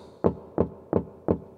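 Four evenly spaced, dull knocks ring out close and loud, each a sharp thump with a brief decay, like a fist rapping on a wooden surface as a sound effect.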